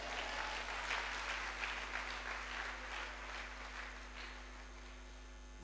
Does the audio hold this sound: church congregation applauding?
yes